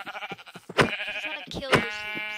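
Sheep bleating in the Minecraft video game, a few short wavering game-sound calls in quick succession, close and clear, with quieter clicks in between.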